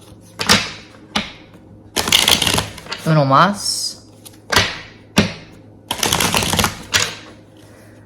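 Repeated bursts of tarot cards riffling and snapping together, several separate shuffles with short pauses between, plus a brief spoken phrase in the middle.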